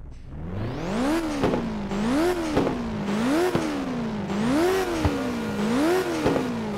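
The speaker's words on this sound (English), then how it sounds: "Now start your engines and get ready." Racing-game car engines in Ridge Racer rev repeatedly on the starting grid, a loud, steady whine rising and falling in pitch about once a second with sharp clicks between the sweeps, and no talking.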